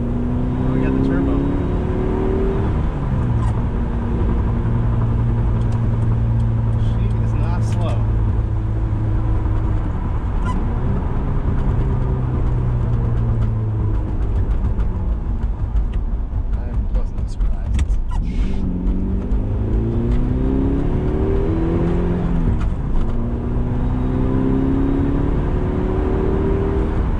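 Turbocharged 1G Eagle Talon TSI AWD accelerating hard through the gears, its engine note climbing steadily, dropping at each shift and climbing again, loud and close from inside the cabin, with people talking over it.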